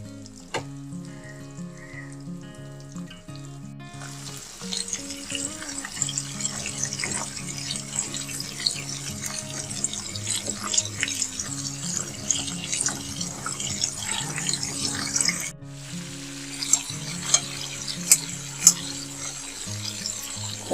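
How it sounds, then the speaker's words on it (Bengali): Chicken and potato fry in oil over medium heat, a dense crackling sizzle that runs steadily for most of the stretch over quiet background music, with a few sharper pops toward the end. "এখন আস্তে আস্তে মিডিয়াম হিটে এগুলোকে ভেজে নিতে হবে, যাতে করে চিকেন সহ ভালোভাবে ফ্রাই হয়ে যায়।"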